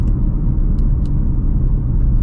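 A tuned Ford Focus RS idles with a steady, deep rumbling engine note, heard from inside the car at constant loudness with faint clicks on top and no talking.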